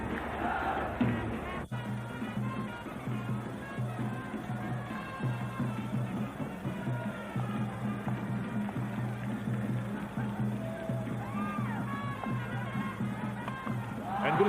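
Around 15,000 cricket spectators at a stadium in Kandy, Sri Lanka, at a Sri Lanka versus Kenya match, applaud and cheer in a steady wash of crowd noise that runs throughout, with a commentator speaking over it.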